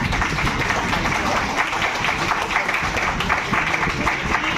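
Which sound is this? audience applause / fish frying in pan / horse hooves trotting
audience applause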